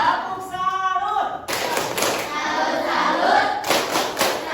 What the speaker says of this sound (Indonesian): Kita kasih tepuk salut dulu buat anak-anak kelas A.